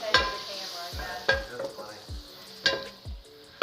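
Garlic hitting melted butter in a hot pan while cooking quesadilla fillings, a soft sizzle under repeated sharp clacks of a utensil stirring and scraping against the pan.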